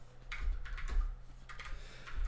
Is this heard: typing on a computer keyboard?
yes